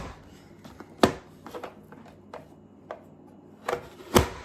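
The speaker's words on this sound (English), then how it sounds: "I'm actually gonna put them on my little dicer." Zucchini slices pushed through a small dicer: several sharp, close clacks spaced unevenly, with two louder presses standing out, and soft rubbing between them.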